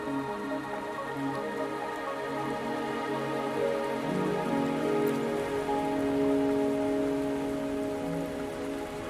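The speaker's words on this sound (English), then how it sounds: "Are you trapped here by the rain?" Rain falls steadily in the video game Wuthering Waves, a soft continuous patter beneath sustained musical tones that runs throughout.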